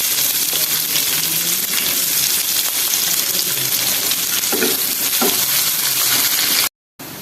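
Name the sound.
chopped onions frying in a pan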